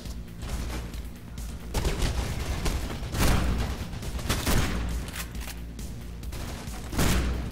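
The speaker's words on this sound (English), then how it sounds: "I'm just shooting point blank in the face" Gunshots fired point blank in Mirror's Edge, a dense run of loud, close reports and booming blasts, with stronger bangs standing out every second or so through the burst.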